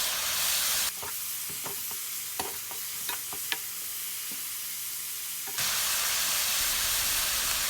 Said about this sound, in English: Stir until pork is cooked.